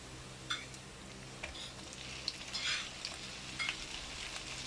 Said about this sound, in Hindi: और इसको हम तब तक फ्राई करेंगे जब तक कि ये वाइट कलर का नहीं हो जाता